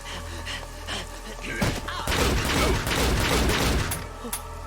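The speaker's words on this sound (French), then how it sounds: "Y'a des coups de feu de ce côté" Anime gunfire from Cyberpunk Edgerunners: rapid automatic bursts and thudding impacts build into a loud, dense fusillade with shattering debris, then ease off into scattered shots.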